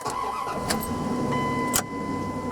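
A 1998 Dodge Ram 1500 pickup truck engine cranks and catches, then settles into a steady idle with a couple of sharp clicks, close and moderately loud.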